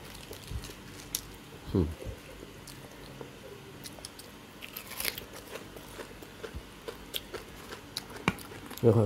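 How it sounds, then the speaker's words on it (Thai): Someone takes a bite of Japanese-style rice mixed with raw egg and chews quietly at close range, with soft moist crunches and smacks scattered over several seconds and brief talking. "ขอชิมสักคำ"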